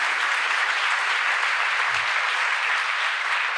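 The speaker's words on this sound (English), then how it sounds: "Come on, give them a great big hand clap today" An audience gives a big round of hand clapping, a loud, continuous wash of applause that holds evenly from start to finish with no voices over it.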